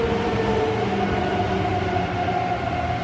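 A Hankyu 8300 series electric train enters a station at speed, a loud continuous roar of wheels and motors with a steady whining tone holding throughout, close and without voices.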